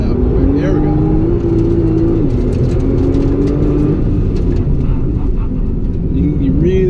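A Nissan GT-R NISMO powering out of a corner on a figure-eight course, its engine note rising and falling steadily beneath a driver talking throughout.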